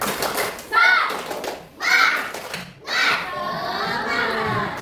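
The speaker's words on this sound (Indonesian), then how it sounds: "Coba tepuk semangat." A classroom of children shouts a rhythmic spirit-clap chant in three loud bursts, their voices chanting together between sharp pauses, then a steadier stretch of group voices.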